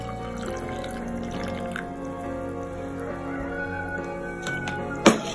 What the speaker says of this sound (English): Next, I will add 1 cup of water.